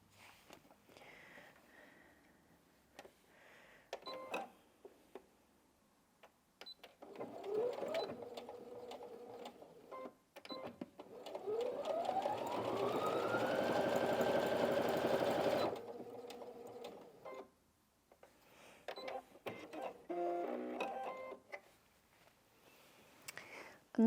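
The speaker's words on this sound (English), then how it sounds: "So I've popped a jeans needle on the machine, and I've got 2 layers of denim here." Brother Inventio NV1850Q sewing machine with a jeans needle running a lengthened straight stitch through two layers of denim, a close mechanical whirring that speeds up and slows in bursts, with quiet handling noises around it.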